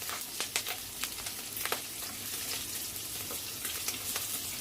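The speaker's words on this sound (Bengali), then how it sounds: "অন্যদিকে আমার মরিচগুলো ভাজা হয়ে যাচ্ছে।" Dried and green chilies frying in a pan alongside shrimp, a steady crackling sizzle with sharp spitting pops, heard close and alone.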